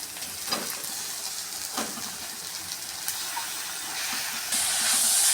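Onions with grated carrot sauté in a hot pan, a steady close-up hiss and sizzle with a few soft knocks, growing slightly louder toward the end.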